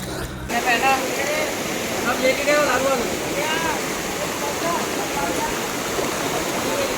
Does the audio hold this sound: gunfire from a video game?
no